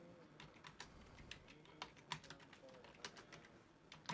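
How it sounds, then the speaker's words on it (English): Computer keyboard typing during a talk radio interview, irregular quick clicks and bursts of keystrokes, fairly close and moderately loud, with faint background sound. "I can hear you typing, Teddy."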